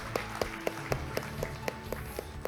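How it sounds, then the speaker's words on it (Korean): A small audience at an academic society meeting claps in a slow, regular rhythm of distinct, evenly spaced claps, moderately close, with faint room murmur underneath. "박수로 통과해 주시기 바랍니다."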